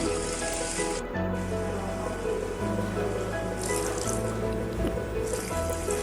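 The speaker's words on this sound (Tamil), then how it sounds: "நான் செமி கிரேவியாக வேணுன்றதுக்காக ஒரு 1/4 டம்ளர் தண்ணி தான் சேர்த்துருக்கேன்" A quarter tumbler of water pours steadily into a hot pan of mushroom chana masala, a continuous hissing splash with a low bubbling undertone and no talking.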